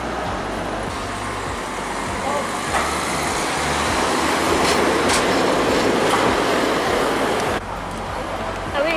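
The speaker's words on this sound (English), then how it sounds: "Quite a lot of trams in this city." A tram rolls along a city street in Sarajevo, a steady loud rumble with faint rail clatter and traffic noise. The noise holds nearly constant for several seconds, then eases slightly near the end.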